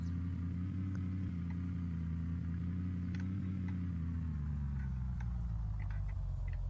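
Car engine in the video game Unturned, a steady mid-pitched drone holding close and constant throughout, with a slight shift in tone near the end as the vehicle moves, no talking.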